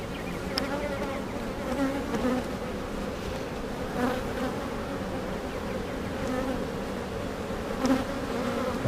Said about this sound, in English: I think I can hear her piping